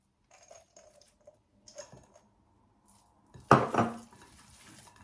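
Chestnut stuffing with dried cranberries being mixed in a bowl: a few faint scattered clicks and light taps, then a louder close burst of scraping and clattering before it settles back to quiet handling.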